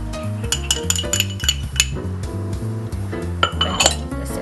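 Fruit stirred with brown sugar and starch in a bowl, a spoon clinking and scraping against the sides in a steady rhythm over low background music, with a few sharper knocks near the end.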